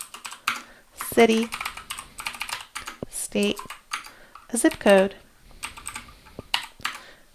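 Keys clatter rapidly on a computer keyboard as fake details are entered into a web form for a bill-pay page, bursts of close typing interleaved with a man's speech.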